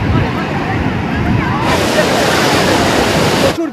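Large sea waves crash on Puri beach in a loud, continuous roar of surf with heavy wind buffeting close to the microphone, and a brief drop just before the end.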